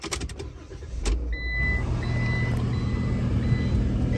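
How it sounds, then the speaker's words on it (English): A Ram ProMaster van rolls up onto ramps: its engine idles and then rises to a steady, close drone after a few short clicks and beeps at the start, with no one speaking. "So now about to get the van up on the ramps and get started."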